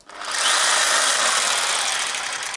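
A handheld jigsaw cuts through a wooden board in one loud, steady, buzzing run of about two seconds, starting abruptly and holding even to the end, with no voices.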